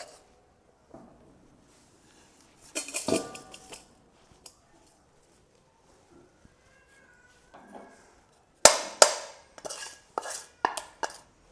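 Roasted semolina is scraped from a pan into a basin with the stove off. Scattered metallic clinks and scraping strokes of a spoon against the vessels break up long quiet gaps, and the busiest clatter comes near the end.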